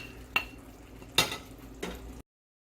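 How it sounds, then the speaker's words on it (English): Mushrooms go back into a pan for risotto and get stirred, giving three distinct scraping clatters of a utensil against the pan with quiet gaps between them and no talking. "I'm going to go ahead and add my mushrooms back in right now."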